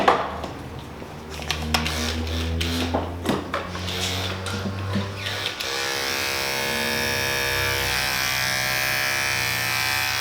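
Barber's electric hair clippers with a detachable blade cutting hair, a steady buzzing drone with short bursts and pauses at first, then running continuously and loudly close up.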